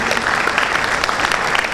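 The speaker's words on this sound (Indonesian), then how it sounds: "Tepuk tangan buat Bapak Ibu orang tua." An audience at a school graduation ceremony claps for the parents, a loud, dense burst of applause from a large hall crowd with faint voices mixed in, steady for the whole stretch.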